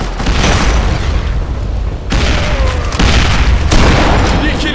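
Booming bomb explosions in the District 187 shooter game, loud and overlapping, with a blast near the start and fresh bursts near two and three seconds, each followed by a roaring rumble.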